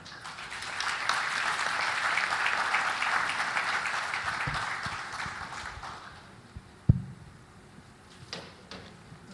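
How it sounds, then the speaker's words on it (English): A panel session audience claps steadily for several seconds before the applause fades out, leaving a quiet room with a few scattered knocks and thumps. "Another round of applause for him."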